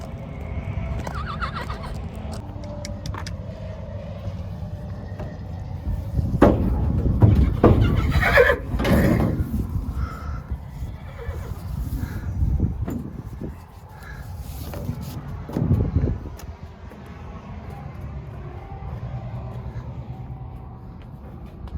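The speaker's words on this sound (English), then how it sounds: "And he is one beautiful stallion." A farm stallion neighs loudly and repeatedly, whinnies rising and falling close by, with hoof clops and shuffling between calls and a steady outdoor background hum.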